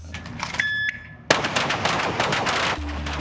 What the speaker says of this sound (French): tirer sur une cible, c'est pas la même chose que d'avoir un être humain au bout du canon